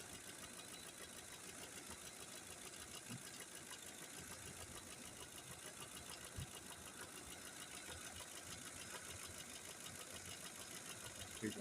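Ford 5.4 engine in a Lincoln, running after one cylinder was disabled: a steady, slightly uneven idle with a ticking, knocking texture. It is faint and continuous, with no talk.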